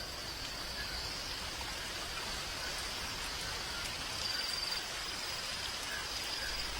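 Steady, even hiss of rain falling, constant and moderately soft throughout, with no voices.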